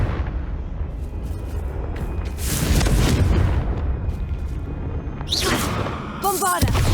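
A Confringo fire spell explodes in Hogwarts Legacy, a loud booming burst within dense, continuous combat noise, followed by further sharp crackling effects and brief voice sounds near the end.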